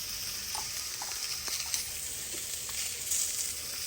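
Sausages fry in a pan for an Irish breakfast fry-up with a steady, even sizzle and soft crackle throughout, fairly quiet and close, with no talking.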